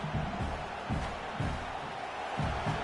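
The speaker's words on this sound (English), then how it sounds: "It's early, but this crowd is fired up. Listen to this noise here." A large college football stadium crowd roars continuously, a dense wash of cheering and shouting with surging pulses, as in a packed stadium.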